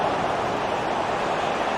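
Steady, dense roar of a large stadium crowd in a football video game, a broad continuous wash of massed voices and noise with no gaps, fairly loud throughout.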